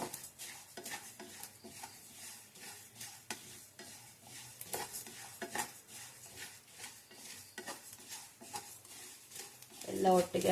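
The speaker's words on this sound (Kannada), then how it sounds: "ಎಲ್ಲ ಮಿಕ್ಸ್ ಮಾಡ್ತಾಯಿದ್ರೆ ಒಂದೇ ಸಲ ಎಲ್ಲ ಫ್ರೈ ಆಗುತ್ತೆ" A drumstick and mango pickle masala is stirred as it fries, with soft repeated scraping and clinks of a utensil against the pan over a low sizzle, quiet and close, with a voice at times.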